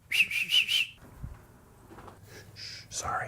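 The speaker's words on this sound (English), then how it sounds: "I shouldn't have whistled like that" Indoors at home, a person gives a sharp, warbling whistle of several rapid pulses lasting about a second, close and fairly loud, followed by breathing and soft talking.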